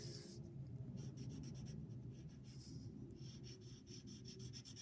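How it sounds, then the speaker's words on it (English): The side of a pencil is rubbed across paper to shade the faces of a drawn cube, producing a faint, continuous scratchy rasp with quick back-and-forth strokes and a brief pause midway. "we'll use the side of our pencil to get right to those edges"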